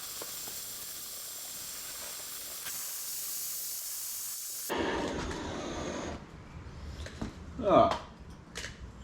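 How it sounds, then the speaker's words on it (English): A gas torch heating rusty bolts on a 1955 VW panel van: a steady, close roaring hiss for several seconds, then it cuts to lower hissing and clatter with a brief louder burst near the end. "we're going to put a bit of heat into these bolts"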